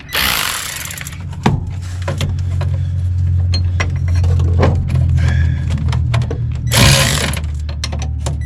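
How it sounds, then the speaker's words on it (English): Electric ratchet working on bolts under a 1966 Plymouth Belvedere, a steady loud mechanical whirring drone with short clicks and metallic knocks, close up and continuous, no talking. "Let's see if the electric ratchet will fit up in there."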